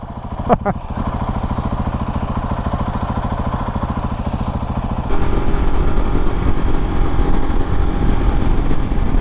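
A KTM 690 Enduro R motorcycle rides along a road on a cold, sunny day, its steady engine drone and wind rumble loud and close throughout, the engine note lifting to a stronger, rougher pitch partway through.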